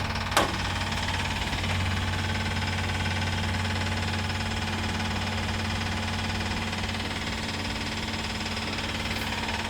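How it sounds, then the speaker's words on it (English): A car's electric fuel pump runs steadily in a project car, producing a constant low drone and hum throughout with a brief click near the start, moderately loud and alone. "excuse the fuel pump noise"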